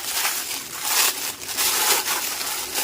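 Plastic packaging around a silicone air fryer liner crinkles and crackles as it is torn open, in close, uneven bursts of rustling over a few seconds.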